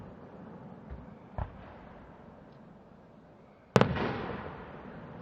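Fireworks go off at night over Lime Rock race track: a few faint distant pops, then one sharp, loud boom with a lingering rumbling tail.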